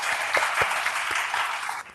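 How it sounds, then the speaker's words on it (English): Steady audience applause fills the room at a talk, a continuous wash of many clapping hands with a few sharper nearby claps standing out, ending abruptly. "Give her another round of applause."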